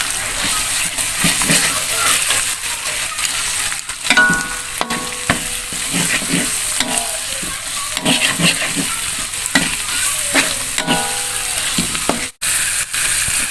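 Thick ground keluak paste fries in a pot and is stirred, a loud, close sizzle running throughout with repeated scraping and knocking of the utensil against the pot, plus a brief pause near the end.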